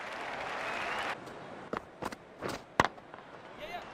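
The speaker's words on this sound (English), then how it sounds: "The crowd applaud." Crowd applause in a cricket video game swells as a steady, dense wash for about a second, then breaks off into a few scattered bursts and claps.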